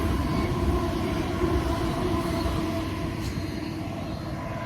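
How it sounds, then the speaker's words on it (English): A Chiltern Main Line train rumbles past close by, a steady loud roar of wheels and engine that holds constant throughout. "Pay attention, Sam, we just missed the Colossus Rail train."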